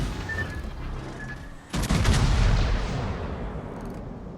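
A naval gun salvo in World of Warships, where a cruiser's guns fire in one loud, sudden boom that rolls into a long rumbling tail, following quieter ambient game sound.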